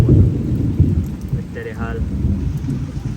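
Torrential rain pours down in Patan during a thunderstorm, a dense, loud roar of rain mixed with low thunder rumble, and a brief faint voice in the middle.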